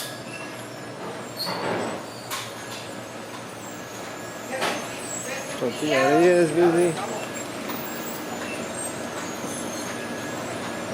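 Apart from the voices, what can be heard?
gas truck driving past on a street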